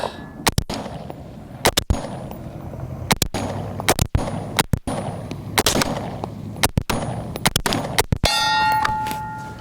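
A string of sharp gunshots at a steel target 70 yards away, each crack followed by a bright metallic ring, fired in irregular clusters with short pauses between them, close and loud.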